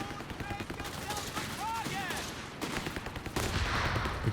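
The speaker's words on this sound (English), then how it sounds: "He's opting for a second machine gun." Machine gun fire and other battle gunfire in the real-time strategy game Company of Heroes 3, dense rattling bursts mixed with explosions and effects, under a caster's fast commentary throughout.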